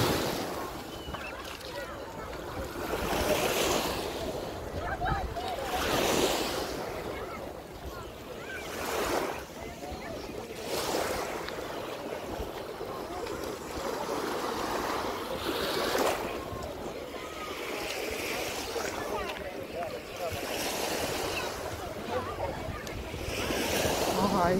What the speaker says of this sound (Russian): В общем, вот такой пляж и вот такое море.